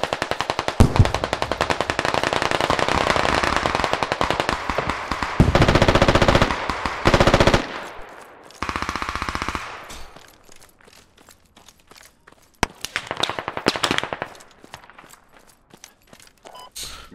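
Bursts of automatic gunfire in the Squad video game on an airfield, loud rapid volleys for several seconds, then quieter scattered shots and distant bursts with sparse gaps between.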